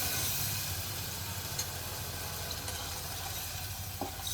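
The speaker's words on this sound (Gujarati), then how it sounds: "પાછું થોડું પાણી નાખવાનું" Water is poured into a bitter gourd curry cooking on a gas stove, giving a soft, steady hiss and bubbling sizzle, fairly quiet, with a few small clinks near the end.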